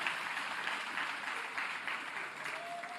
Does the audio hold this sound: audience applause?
yes